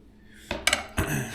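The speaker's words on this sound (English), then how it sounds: "So we'll scoop the garlic onto the tray." Cooked garlic scooped from a metal pan onto a tray, a few quick close scrapes and clinks of utensil on metal in a short burst, after a moment of quiet.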